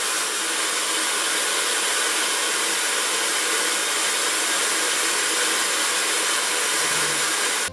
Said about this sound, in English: The noise level in the first mode is 60 dB.